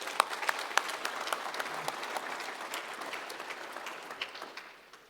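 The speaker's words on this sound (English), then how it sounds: "let's give them a big round of applause" An audience applauds a panel at a banking, financial services and insurance technology summit in South Africa, a steady wash of clapping from a moderately sized crowd that tapers off toward the end.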